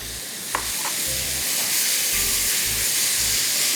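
Parsi chicken bafaat masala sizzles and hisses steadily in a pan as chopped tomatoes go in and are stirred, with scraping strokes throughout and one sharp clink near the start; no voices.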